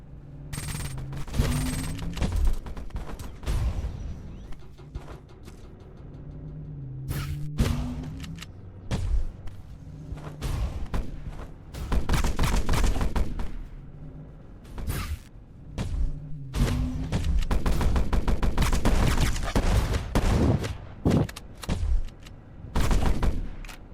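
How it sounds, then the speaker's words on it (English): Alternate-fire volleys of shots in a video game ring out in repeated bursts, sharp overlapping blasts separated by brief lulls with occasional whooshes, loud and close. "Its alt fire fires a volley of shots at whatever wall you're facing at."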